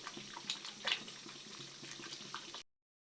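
Water is poured into a pot to boil rice, a soft, continuous splash and trickle close by, fairly quiet and alone, ending abruptly.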